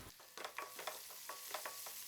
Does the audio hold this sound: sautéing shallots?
yes